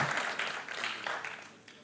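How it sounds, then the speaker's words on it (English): Steady applause from an audience, a dense crackle of many hands clapping that swells slightly and then tapers off over about two seconds. "And a warm round of applause, please, for him."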